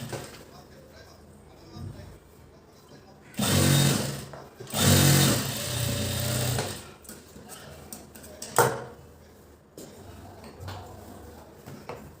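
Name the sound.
sewing machine stitching a fitting seam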